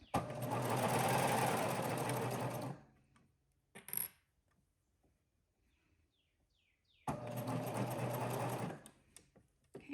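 A sewing machine stitching fabric runs in two steady, loud whirring bursts with a quiet pause between, where a brief click sounds.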